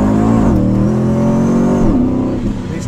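A built SRT8 Jeep's engine revs hard and accelerates, loud and close, its pitch climbing, easing, then climbing again in a sustained roar.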